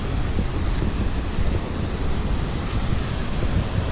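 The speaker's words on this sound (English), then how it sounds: "You got this old waterfall coming up." Steady broadband rush of a waterfall on the White River in the Ozarks, loud and continuous with a deep low rumble and no voices.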